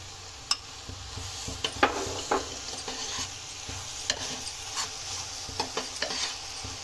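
Ground tomato is stirred into spices in a hot pan, with a continuous gentle sizzle and a spoon scraping and tapping against the pan in uneven strokes, close and clear with no talking.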